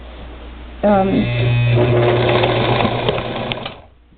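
Singer Model 237 sewing machine stitching denim, a close steady motor whir with rapid needle clatter starting abruptly and running for about three seconds before slowing to a stop.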